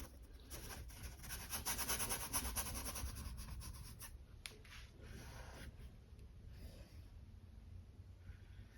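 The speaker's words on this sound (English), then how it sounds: "I'll wiggle my brush around." A brush loaded with bright pink acrylic paint scrubs and wiggles across canvas in soft, close, quiet rubbing strokes, busiest in the first few seconds and then lighter and more scattered.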